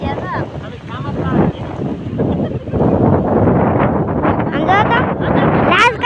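Wind gusting across an open farm field buffets the microphone in a steady, loud roar, while people talk close by throughout.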